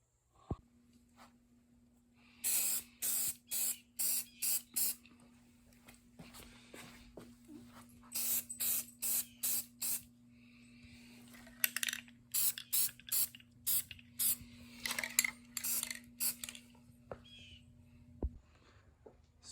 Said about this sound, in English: I'm gonna paint it just using some good old Rust-Oleum